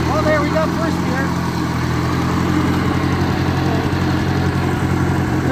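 A 1953 Ferguson TEA20 tractor engine runs steadily in first gear, a continuous low, even drone with a constant throb at close range, unbroken from start to finish with no distinct changes in pitch or level.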